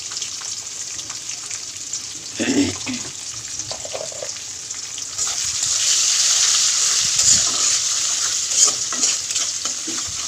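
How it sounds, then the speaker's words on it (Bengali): Hot cooking oil sizzles steadily after salt is stirred in to stop it spattering, a close, continuous hiss that grows louder and brighter halfway through, with brief scraping stirs and a faint voice early on. "তেলের মধ্যে লবণ দিয়ে দিলাম নাহলে তেল ছিটে"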